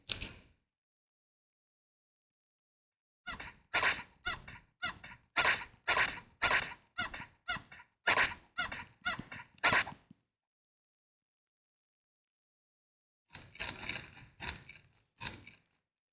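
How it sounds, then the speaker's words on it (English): A chicken in a desert survival video game gives bursts of rapid, clipped clucks separated by silent gaps, fairly clear and close with no talking over it. "Ooh, there's a chicken."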